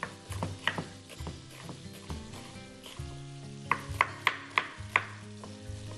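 A knife chops onion into half-moon slices on a board, with sharp close knocks, a few spaced out early and a quicker run of regular strokes near the end, over a background of steady tones.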